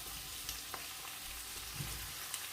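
Smoked meat sizzles in a frying pan alongside onions, giving a steady, faint, close-up crackle broken by small pops and spits.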